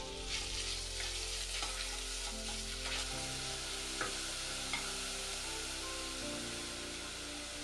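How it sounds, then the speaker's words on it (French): Beef frying in a spoonful of oil in a saucepan over medium heat for a Korean tteokguk soup, a steady loud sizzle with stirring scrapes throughout. "Faire revenir le bœuf une minute."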